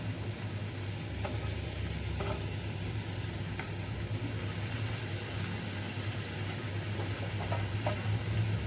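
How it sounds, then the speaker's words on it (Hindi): Spiced potatoes cooking in a pan, a soft continuous sizzle with occasional faint stirring scrapes, quiet and steady with a low hum underneath. "मिक्स कर देंगे और 2 से 3 मिनट इसको पकाएंगे"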